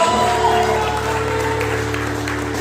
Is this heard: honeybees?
no